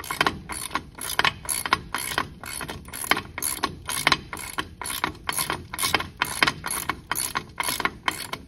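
A ratchet clicks steadily as a Model A Ford's mechanical brake adjustment is tightened, with repeated metallic pawl clicks in even bursts close up and no talking.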